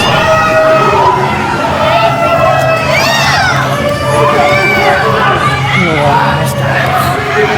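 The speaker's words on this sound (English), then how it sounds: "This crowd does not like Ramsey Ransom" A large pro wrestling crowd shouts and cheers continuously, with whoops and yells rising over a dense, steady roar throughout.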